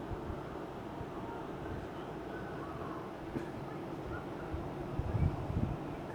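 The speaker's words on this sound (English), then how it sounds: "If you hear any noise in the background, it's this indoor air conditioner." An indoor air conditioner drones at a low, constant level throughout, with faint scattered background noises.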